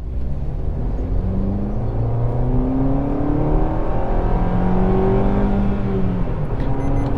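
A Maruti Ignis BS6 petrol engine with AMT revs hard under acceleration, its drone climbing steadily in pitch and dipping as the gearbox shifts, loud and continuous from inside the car with no talk.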